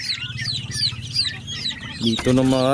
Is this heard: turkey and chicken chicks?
yes